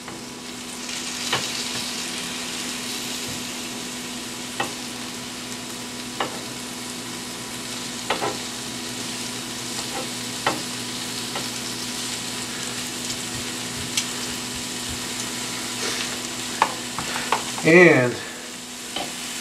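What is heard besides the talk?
carrot spears sizzling in a frying pan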